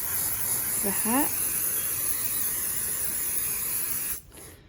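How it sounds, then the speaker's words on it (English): A steady spray of aerosol adhesive hisses continuously for about four seconds, loud and close, then cuts off abruptly; a brief voice speaks near the start. "Make sure you spray really good at the bottom"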